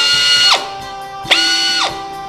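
A pneumatic spot drilling machine runs in two bursts, each a sharp start followed by a high whine that falls away as the air drops off, loud and near with no talk.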